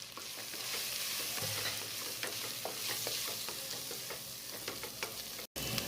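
Chilli, turmeric and garam masala powders sautéing in a pan, with a continuous close sizzle under frequent stirring scrapes and clicks, steady throughout with one brief dropout near the end.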